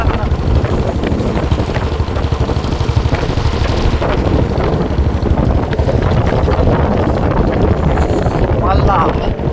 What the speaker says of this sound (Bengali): উত্তরের হাওয়া, এই যে হাওয়া দিচ্ছে কিরকম এখন।